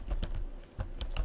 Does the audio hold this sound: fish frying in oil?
no